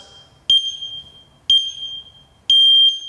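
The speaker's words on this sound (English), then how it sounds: "It starts with a 10-second countdown timer before you get into the workout" Programmable interval timer beeping through its countdown: three loud, sharp electronic beeps about a second apart, the last one held longer, close and clear over a quiet room.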